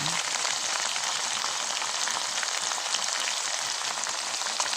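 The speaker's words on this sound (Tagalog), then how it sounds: "So guys, ilagay na natin ang tomato sauce." Tomato sauce goes into a hot pan of beef for red-sauced spaghetti, setting off a steady, close, even frying sizzle that hisses without pause.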